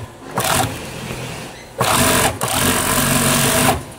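An industrial sewing machine stitches elastic garter in a busy sewing shop. Its motor whirs loudly in two long bursts separated by brief pauses, and each burst starts and stops abruptly.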